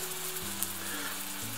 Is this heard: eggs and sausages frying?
yes